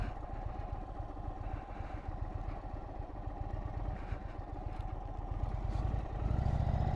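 Vintage motorcycle being ridden, its engine running with a steady mechanical chug and clatter close by, swelling slightly louder toward the end.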